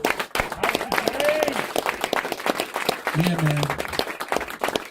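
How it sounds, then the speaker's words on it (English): Audience applause at a live hip-hop show, a dense crowd clapping continuously from start to end beneath someone talking over it on the microphone. "So give those guys another round of applause"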